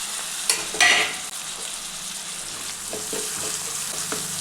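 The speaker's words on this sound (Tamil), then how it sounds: "அதையும் சேர்த்துட்டு அதனுடைய பச்சை வாசனை போகிற அளவுக்கு நம்ம வதக்கிக்கலாம்." Ginger garlic paste sautéing in hot oil in a pan for a bottle gourd curry, a steady close sizzle with a couple of sharp stirring clatters early on, no talking.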